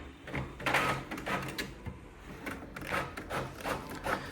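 Epson LP6460 printer printing sheets, with close, irregular mechanical whirs and clacks as paper feeds through in repeated bursts, and no talk.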